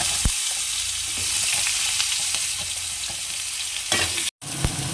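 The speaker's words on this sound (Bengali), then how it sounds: "আলুটা ভেজে নিচ্ছি" Potatoes and green chili fry in a hot pan, a steady bright sizzle with occasional stirring clicks and a brief dropout near the end.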